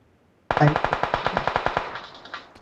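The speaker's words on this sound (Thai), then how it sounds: "ยิงกัน" A burst of automatic gunfire in the battle royale game PUBG Mobile, a sharp onset followed by about a dozen rapid, evenly spaced shots, loud and close, tapering off with a faint tail.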